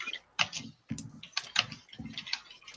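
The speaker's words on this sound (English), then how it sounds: "Wow, we can actually hear your typing louder than your voice." Rapid, loud clatter of fast typing on a computer keyboard, bursts of sharp key clicks in quick uneven runs with short pauses, close and dry.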